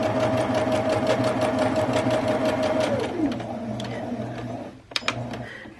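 A sewing machine runs a straight stitch along a fabric face mask, a close, steady rapid chatter with a whirring motor that slows and halts partway through, followed by a few faint clicks and handling noises.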